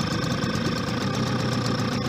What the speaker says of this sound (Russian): Холостой ход.